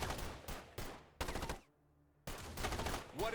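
Gunfire from Starship Troopers: Terran Command, with several loud, close bursts in quick succession, then a short lull with a faint low hum before one more burst. No voices are heard.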